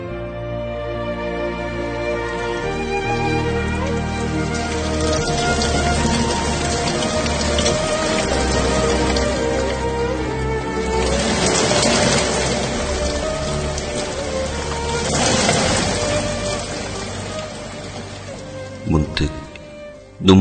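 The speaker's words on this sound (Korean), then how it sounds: "눈물처럼 떨어지는 빗방울." Raindrops fall in a steady patter and hiss of rain under soft, sustained music, continuing evenly before a few sharper drops near the end.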